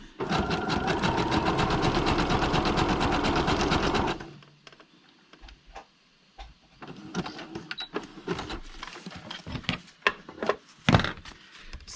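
A sewing machine stitches through paper, first in a steady, fast, loud whirring run for about four seconds, then stops and gives way to scattered clicks, taps and paper handling.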